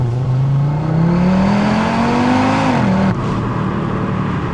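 Audi RS3 hatchback at full throttle, its engine note climbing steadily in pitch as the car accelerates hard, loud and close, then breaking briefly at a gear change before settling into a steady roar.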